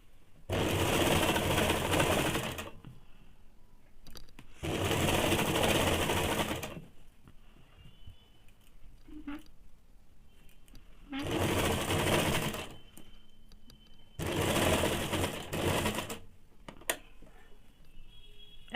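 A sewing machine stitching piping onto fabric for a semi salwar, four loud bursts of fast whirring stitches separated by pauses with faint handling sounds.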